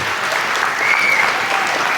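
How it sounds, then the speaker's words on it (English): Guests at a 60th birthday celebration give a round of applause, a dense, steady burst of clapping that fills the whole short stretch at close, even loudness. "So let's have a huge round of applause for Ranga and Shailu"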